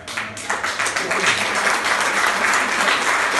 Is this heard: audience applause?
yes